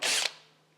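Power drill biting briefly into a polyester fender on an MGA, a short loud whir of about a quarter second that cuts off and leaves a faint hum fading away.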